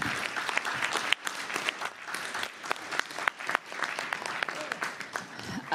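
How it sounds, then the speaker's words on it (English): Conference audience applauding panelists at a session on the war in Ukraine in Tokyo: dense, steady clapping from a crowd in a hall, sustained at moderate level throughout. "let us all give a big applause to these excellent panelists."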